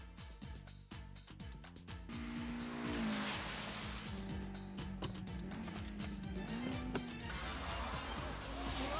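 A Toyota AE86 and a Nissan S14 race downhill in the rain, engines droning loudly and steadily with rising and falling revs and tire squeal, layered over a continuous dense wash of sound.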